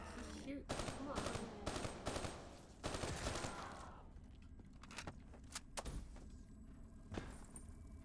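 Rapid bursts of video game gunfire crackle in clustered volleys, loud at first and then thinning into scattered single shots, with faint voices underneath.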